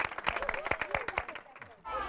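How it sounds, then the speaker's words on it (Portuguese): A small audience claps with sharp, distinct hand strikes to thank a community in Tacaimbó, Brazil, close and fairly loud, then stops as a soft murmur of room noise takes over near the end. "Vamos aplaudir a comunidade, né, pela acolhida que eles deram para a gente."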